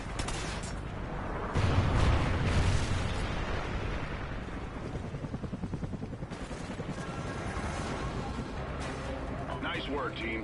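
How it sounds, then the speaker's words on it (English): Trinity rocket strike in Call of Duty: Ghosts, with heavy rumbling explosions and battlefield gunfire churning for several seconds, loudest early on, then a sustained dense roar. "Friendly Trinity rocket inbound."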